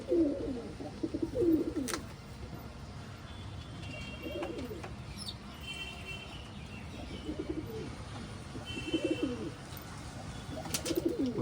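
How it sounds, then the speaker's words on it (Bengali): Pigeons in a loft coo in low, rolling bursts that repeat every couple of seconds, close by, with faint chirps and a light background hiss between them. "এই পায়রাটা হচ্ছে বন্ধুরা পাগল পায়রা।"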